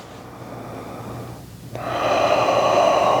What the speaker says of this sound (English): Just breathing right now